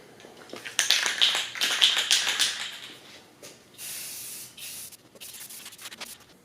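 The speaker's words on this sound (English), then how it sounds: "I'm going to go ahead and shoot one more layer of clear" Clear coat sprayed onto a 100-year-old Ford Model A/Model T adjustable wrench during restoration: hissing aerosol bursts, a busy run early on then a few separate sprays, close and fairly loud with no talk.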